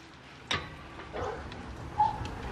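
Siberian huskies whimper and let out soft yips at a new house, a few faint, brief canine cries spread across the moment with quiet room noise in between.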